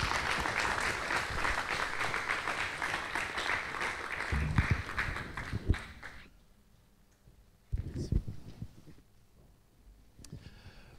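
A church congregation at a Sunday service claps loudly for about six seconds, then the applause dies away to a few scattered claps and small noises.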